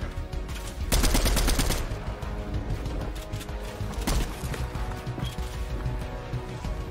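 Gunfire in a battle-royale style video game, where a player running low on ammo is caught in a firefight; a dense loud burst of rapid shots early on, then scattered shots and impacts under ongoing game noise.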